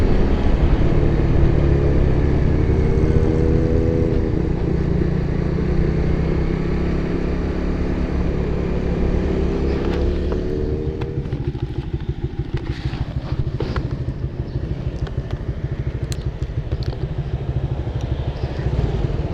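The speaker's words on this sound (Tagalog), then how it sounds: "Oy, big bike, big bike." A big motorcycle rumbling past, loud engine drone with shifting pitch that fades into crackling rumble and clatter, recorded close on a small action camera.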